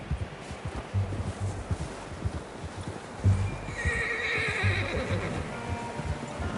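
A horse whinnies loudly and nearby in the Red Dead Redemption 2 video game, amid clip-clopping hooves and rustling, with no voices over it.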